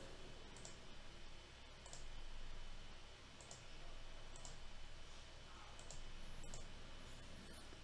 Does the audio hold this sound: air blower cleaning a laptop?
no